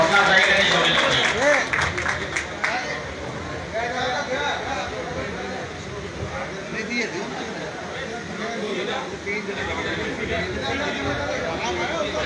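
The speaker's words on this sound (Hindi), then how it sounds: "ताली हो जाए और अपना ताली करने शामिल हो जाए" An audience applauds at a pigeon racing prize distribution ceremony in Karachi, steady clapping that is loudest at the start and then thins into a lower wash of crowd chatter and background talk.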